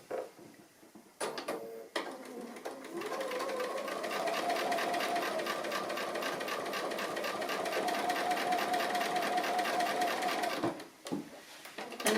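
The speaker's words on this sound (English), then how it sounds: "I just do a couple of stitches on top of each other and that locks it off" Sewing machine stitching appliqué runs in a steady rapid whirr for several seconds, bracketed by brief starts and stops and small clicks, close and clear with no talking.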